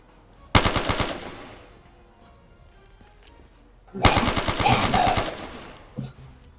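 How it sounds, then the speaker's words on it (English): Two separate bursts of heavy shotgun fire in Black Ops III, each a loud, punchy cluster of blasts with a short rattling tail, separated by a few quiet seconds. "Sonido de la escopeta"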